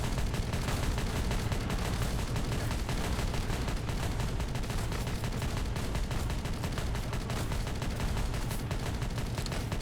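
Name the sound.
gunfire in a video game battle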